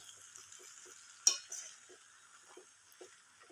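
Rice being mixed in a pan over a low flame gives soft, rhythmic scraping strokes, with one sharper clink of the utensil against the pan and a faint sizzle underneath.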